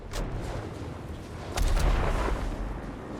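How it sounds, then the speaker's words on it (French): A hunting shotgun fires in Chernobylite, giving a heavy booming blast that swells and lingers over a low rumbling ambience, with a fainter sharp report just before it. "Fusil de chasse."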